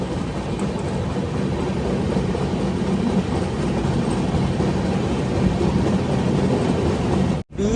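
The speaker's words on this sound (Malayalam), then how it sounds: "ബീഹാറിലെ കിഷൻഗഞ്ച് സ്റ്റേഷനിലേക്ക് ട്രെയിൻ എത്തിക്കൊണ്ടിരിക്കുകയാണ്" Saraighat Express running toward Kishanganj station in Bihar, a continuous loud rumble and rattle of rolling carriages heard from on board, steady throughout with a brief dropout near the end.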